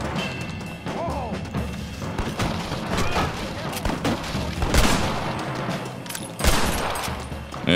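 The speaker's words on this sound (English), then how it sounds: "Yo, who's shooting me?" Gunfire from Red Dead Redemption on Xbox One X: a loud, chaotic fusillade of shots and crashing impacts runs throughout, with bigger booming blasts near the middle and end.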